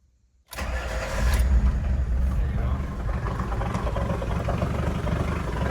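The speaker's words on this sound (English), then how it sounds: "I'm actually gonna fire this thing up so you can listen to it." A cold Isuzu Rodeo diesel with glow plugs cranks and catches, then settles into a loud, rough, uneven idle that carries on steadily after the start, with a brief voice early on.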